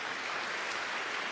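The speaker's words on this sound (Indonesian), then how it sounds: "Tepuk tangan dulu buat Tuhan." A church congregation claps in a brief, steady burst of applause, heard from a distance and fairly quiet.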